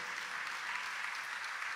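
A live concert audience applauds, a steady, even wash of clapping heard at a distance, with no one speaking over it.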